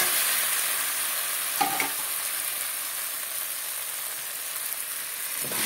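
Steady oil frying with a soft continuous sizzle, a brief stirring scrape partway through, no voices.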